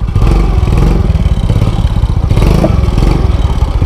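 Close, loud motorcycle engine running with a rapid chugging idle and slight revs, accompanied by occasional clatter and thumps, no talking over it.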